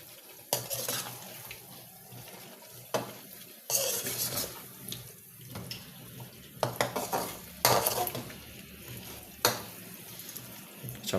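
Potatoes stirred and frying in a chicken curry gravy in a pan, with a steady low sizzle broken by repeated scraping clatters of a spoon against the pot; no talking.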